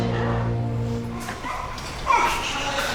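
A small female dog at a veterinary clinic barks and whimpers in short bursts, with one louder yelp standing out near the end against a steady background of room noise.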